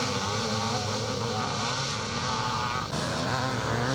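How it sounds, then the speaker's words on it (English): A big Yamaha HL scrambler being coaxed back to life after a spill at a classic scramble race, its engine a steady loud drone with a brief dip near the end, other racing bikes roaring nearby. "trying to get his big HL Yamaha fired up after that little spill"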